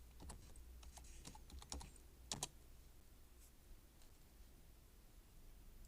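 Keys on a computer keyboard are typed in a quick run of light, close clicks for the first two seconds, then a couple of sharper taps, followed by quiet room tone. No one speaks.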